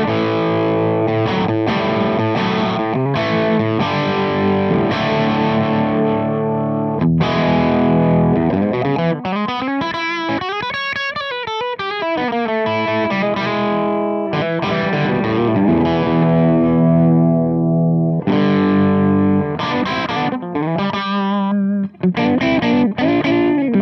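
Loud, sustained distorted electric guitar chords played through a Celestion Redback speaker, with a swirling, sweeping stretch in the middle and chopped stabs near the end.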